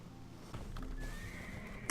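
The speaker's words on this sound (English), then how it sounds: "We go back on our horse." A horse in Black Desert Online gives a loud, close neigh, with clip-clopping hooves around it and no speech over the sound.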